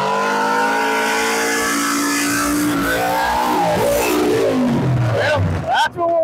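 A 1955 Chevy engine revs loudly and continuously, its rising and falling roar filling the whole stretch before cutting off near the end, with a voice talking over it.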